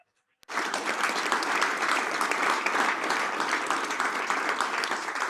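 Sustained loud applause from a church congregation at a worship service, a dense wash of clapping and cheering that starts abruptly after a brief silence and holds steady throughout.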